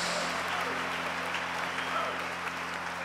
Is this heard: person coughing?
no